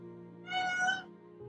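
A cat lets out one loud, drawn-out meow at close range, rising and falling over about half a second, over a steady low background hum in an art studio.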